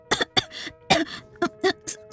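A woman coughs in a quick series of about eight short, harsh bursts, close up, with no talking in between.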